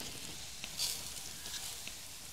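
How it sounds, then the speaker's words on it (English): Arborio rice toasts in a hot pan for red wine risotto, making a steady, fairly quiet frying hiss up close, with a few faint stirring ticks and no talking. "So we're just toasting the rice."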